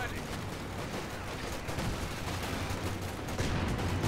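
Dense battlefield gunfire from the strategy game Company of Heroes 2, with MP40 submachine guns and a Cromwell tank firing. The volleys run as a continuous crackling roar under a low rumble, with no clear gaps.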